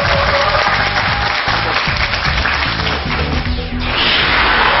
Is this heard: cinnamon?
no